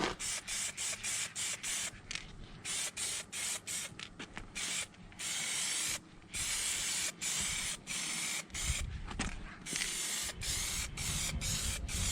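Aerosol spray paint applied to a Toyota Hilux custom suspension part in a workshop, hissing in many short and longer bursts with brief gaps between them, fairly close and with no talking.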